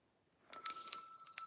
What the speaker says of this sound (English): I can ring my bell.